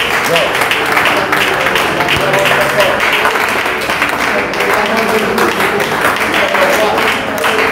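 A church congregation applauding, sustained dense clapping from many hands, loud and close, with a voice speaking over it.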